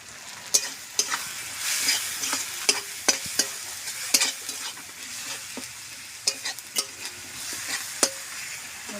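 Chilli powder, turmeric and Kashmiri chilli powder frying in a pan with a little water for a duck egg curry, stirred steadily with sharp scraping clicks over a continuous close sizzle, no talking.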